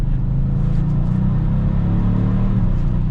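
A 2022 Kia Stinger GT2 RWD accelerates from inside the cabin, its engine a loud, steady low rumble that stays strong and even for about three seconds.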